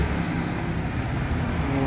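A muddy trail motorcycle passing a motorcycle workshop gives a steady, fairly loud low engine rumble that holds evenly for the whole moment, with no voices over it.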